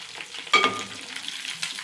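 Chicken 65 pieces fry in hot oil in a home kitchen, a soft continuous sizzle with a sharper crackling burst as something is stirred, then settling back to a gentle bubbling.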